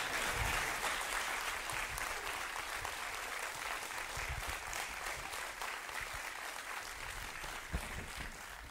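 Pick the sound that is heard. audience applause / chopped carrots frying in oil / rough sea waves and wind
audience applause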